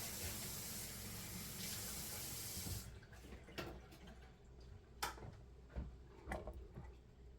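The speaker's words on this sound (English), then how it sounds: "Let me wash a couple of these off." Potatoes are rinsed under a running kitchen tap, steady water hiss for the first few seconds, then it stops, leaving faint drips, knocks and handling clatter, quiet and close.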